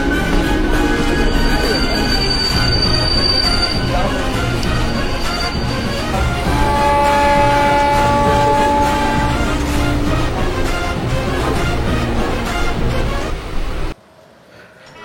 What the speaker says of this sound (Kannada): ಲೋಕಲ್ ಟ್ರೈನ್ ಹಿಡಿದು ನಾವು ಬೇರೆ ಕಡೆ ಮುಂದೆ ಹೋಗಬೇಕು